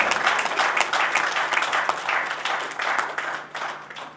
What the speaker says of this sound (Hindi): एक बार करतल ध्वनि से स्वागत